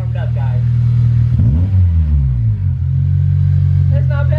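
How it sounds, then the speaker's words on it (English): A Honda Civic FD2 engine with a muffler delete idles with a deep, raw rumble, then revs sharply around the middle before settling back; voices can be heard briefly over it. "let's get some revs"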